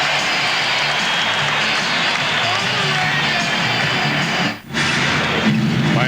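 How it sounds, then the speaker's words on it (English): A basketball arena crowd at a Miami Heat versus Chicago Bulls game cheers and applauds in a steady, dense roar that dips briefly once before swelling back. "The crowd here loves it."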